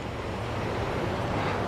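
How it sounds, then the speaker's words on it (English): A small mountain creek running through Baden-Baden's city center: a steady, even rush of flowing water, moderately loud and continuous throughout, with no voices. "the little creek going through the city,"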